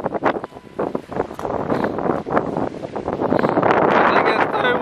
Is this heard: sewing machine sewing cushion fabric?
no